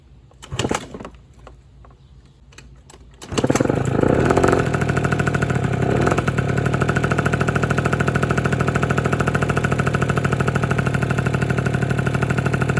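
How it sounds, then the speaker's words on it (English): A Vento Triton R4 scooter engine, freshly started for the first time, sputters briefly, then settles into a steady, loud, close idle that runs evenly to the end with no talk. "I got her to idle on her own with the idle screw"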